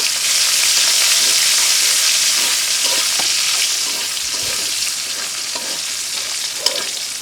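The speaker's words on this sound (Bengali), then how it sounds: "তেলের সঙ্গে পেঁয়াজ কুচিগুলো মিক্স করে নিচ্ছি" Chopped onions frying in oil in a cooking pot while being stirred and mixed, a loud, close, unbroken hiss of sizzling with occasional scrapes and light clatters, no voices.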